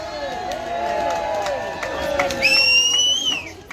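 Crowd at an anti-racism rally cheers and claps, with whistles shrilling over the noise and a long rising whistle near the end; chatter and shouts mix into the steady, fairly loud din.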